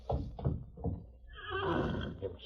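A horse whinnies loudly in a long, shrill neigh after a few heavy thuds of hooves, in an old radio drama set near a canyon.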